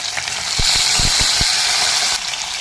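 Tomato hitting hot oil with garlic and curry leaves in a pan for a traditional Kongu-style lunch, a steady loud sizzle and hiss with a few soft clinks of stirring.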